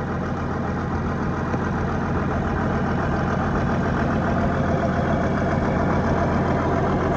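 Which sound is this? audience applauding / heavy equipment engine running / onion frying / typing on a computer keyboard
heavy equipment engine running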